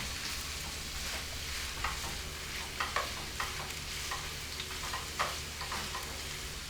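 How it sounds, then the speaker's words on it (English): Onions sizzle steadily in a pan while being stirred, with scraping and clinking strokes breaking through the constant frying hiss every second or so, close and fairly quiet, no talking. "Stir it around a bit."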